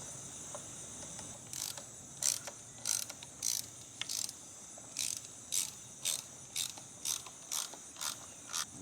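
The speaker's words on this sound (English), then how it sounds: "I got a short ratchet here." Short ratchet clicking in regular bursts while tightening a Lowrance Ghost 3-in-1 transducer mount, close up, about a dozen evenly spaced crisp ratcheting strokes with no talk.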